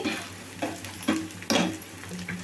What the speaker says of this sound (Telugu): అల్లం వెల్లుల్లి పేస్ట్ కూడా పచ్చివాసన పోయేదాకైతే వేగిందండి